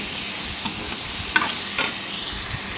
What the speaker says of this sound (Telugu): ఈ విధంగా కలిసే విధంగా చక్కగా గరిటెతో కలిపేసుకోవాలండి